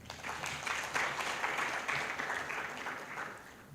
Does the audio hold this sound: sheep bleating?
no